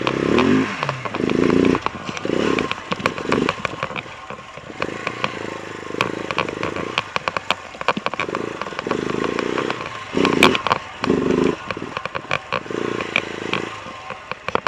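KTM 690 motorcycle on a dirt fire road, single-cylinder engine droning steadily up close with rhythmic surges and dips in throttle, plus gravel clatter and wind buffeting, no voices.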